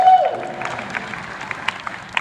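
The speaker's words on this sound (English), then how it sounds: "you can clap if you want to" Audience at a lecture gives a scattered round of clapping, a thin, uneven patter of hands at moderate distance after a brief voice at the start, some claps standing out as sharper isolated hits.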